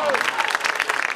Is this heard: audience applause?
yes